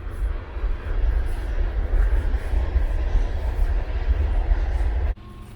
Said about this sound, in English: Train's finally getting past